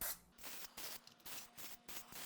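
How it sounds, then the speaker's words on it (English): Cooking spray misted inside meatball molds, a series of short, close hissing bursts separated by brief gaps, quiet overall. "we will spray these down on the inside for hopefully a easy release"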